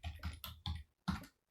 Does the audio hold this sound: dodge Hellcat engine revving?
no